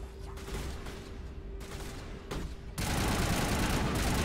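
Gunfire in the Mass Effect game, sparse shots under a steady background hum, then a dense, loud burst of rapid firing that fills the final second and a half, with a voice speaking earlier.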